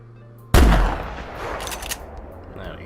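A single loud gunshot from a .22 rifle in the hunting video game theHunter, a sharp close blast at the start that trails off into a fading reverberant tail, with no talk.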